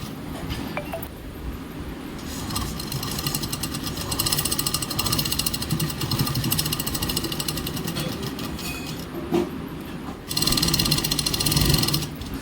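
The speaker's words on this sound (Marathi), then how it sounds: "साईडला व्यवस्थित मापामध्ये मस्त शिलाई मारून घ्यायची" Sewing machine stitching along the side of a door curtain, a fast steady mechanical chatter that runs in long bursts with brief pauses, close and fairly loud.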